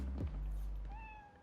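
A cat meows once, close and clear, in the Spider-Man: Miles Morales video game, a short rising then falling cry following a soft thump.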